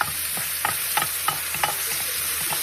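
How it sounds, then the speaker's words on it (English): Onions and potatoes stirred in butter in a pan, a spatula scraping in a steady rhythm of about eight close strokes over a continuous frying sizzle, no voices. "Stir, stir, stir."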